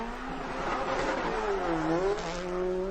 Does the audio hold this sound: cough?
no